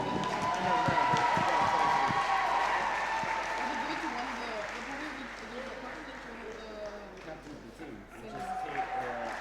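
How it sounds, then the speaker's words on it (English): An audience applauds at a trophy presentation, clapping strongest at the start and gradually thinning while an announcer's voice and crowd murmur carry over it. "Ladies and gentlemen, a round of applause for the Riga Latvia."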